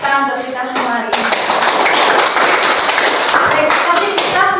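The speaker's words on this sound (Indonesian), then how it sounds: "tepuk tangan untuk kita semua hari ini." A group claps hands together in a classroom coding and artificial intelligence lesson, with several counted rounds of taps giving way to sustained, loud, continuous clapping from many people.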